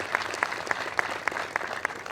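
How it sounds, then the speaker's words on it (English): An audience claps at a student center ribbon-cutting ceremony, a short burst of applause with distinct, evenly spaced louder claps standing out from the steady patter. "Let's give them a big round of applause."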